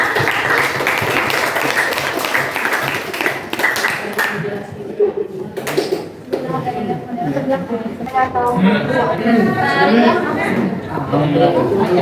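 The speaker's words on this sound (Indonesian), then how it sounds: "Berikan aplaus ya, Kak." A classroom audience at a madrasah in Kota Goro claps after a student group presentation, loud steady applause mixed with chatter and voices that trail off into talk.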